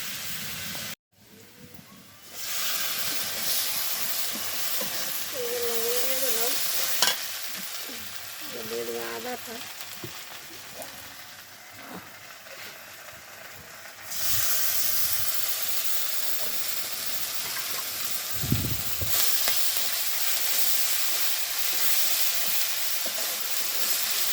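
Shrimp sizzling in a hot pan, a dense, steady hiss that grows louder about halfway through, with scattered stirring clinks and brief faint voice sounds in the background.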